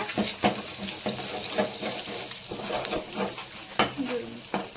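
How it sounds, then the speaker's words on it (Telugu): Egg rice being stirred and mixed in a pan, with steady scraping and clinking of a spoon against the pan and a faint sizzle underneath, close by with no talk. "ఎగ్ రైస్ అయితే కలుపుతా ఉన్నాను అనమాట"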